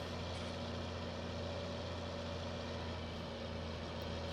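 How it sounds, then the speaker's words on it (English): A Farming Simulator 19 tractor with a straight pipe exhaust holds a steady low idling rumble, even and continuous, heard alone and fairly faint. "It's got a straight pipe exhaust, which is just sounding beautiful"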